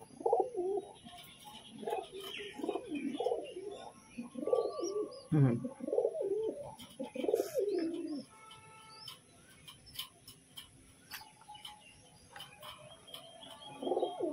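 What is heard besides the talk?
pigeons cooing while pigeon chicks are hand-fed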